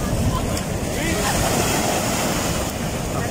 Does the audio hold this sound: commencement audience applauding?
no